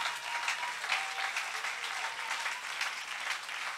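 A church congregation applauds at a Sunday service, dense steady clapping from many hands filling the room without a break, fairly close and even in loudness throughout.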